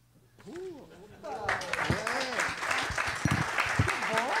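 Audience at a book reading and talk event bursts into applause: a voice speaks briefly, then dense, sustained clapping swells and holds at a steady, fairly loud level to the end.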